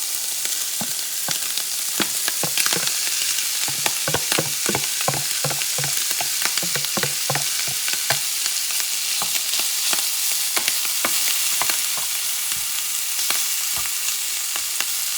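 Wild boar meat for a pork hash frying loudly in a pan, a dense continuous sizzle with frequent sharp spatters and pops, plus a cluster of scraping stirs early on.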